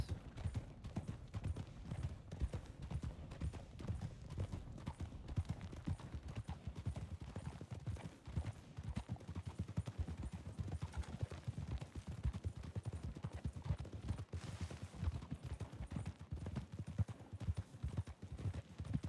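Horse hooves clip-clop steadily in the Red Dead Redemption 2 video game, a continuous trotting rhythm with low thuds and occasional faint background noise throughout.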